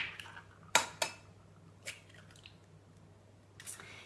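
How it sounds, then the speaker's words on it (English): Two eggs are cracked into a bowl for a vegetable omelette, giving a couple of sharp taps on the rim followed by soft, faint squishy drips in a quiet kitchen. "I'm adding 2 eggs into a bowl"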